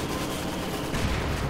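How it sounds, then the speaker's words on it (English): Soviet mortar and gunfire crack through a WWII strategy game battle, a dense, continuous barrage of booms and shots with a heavier low thud swelling near the end. "I think that was a Soviet mortar."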